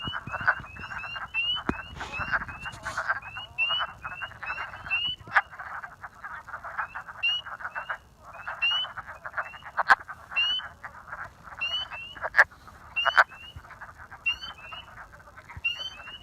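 Wood frogs call at a breeding pond near a salamander, giving a continuous chorus of rapid clucking, duck-like croaks at moderate distance.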